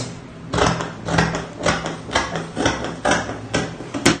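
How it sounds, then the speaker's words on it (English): Aso oke fabric being cut for a headband, with a steady series of crisp, close scissor snips repeating throughout, no talking. "So I'm going to cut that out."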